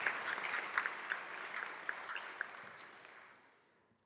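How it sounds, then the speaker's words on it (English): An audience applauds at a faculty convocation ceremony. The clapping starts full and fairly distant, then thins and fades to near silence over about four seconds. "a round of applause for all the vice presidents who've joined us."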